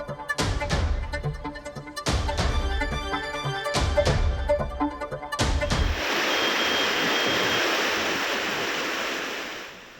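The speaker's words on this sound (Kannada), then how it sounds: "ರಸ್ತೆಯಲ್ಲಿ ನದಿಯಂತೆ ಮಳೆಯ ನೀರು ಹರಿತಾ ಇದೆ." Rainwater from heavy rain in Bailhongal, Belagavi rushes along a flooded road like a river. A steady, loud roar of water starts about halfway through, after a stretch of rhythmic music.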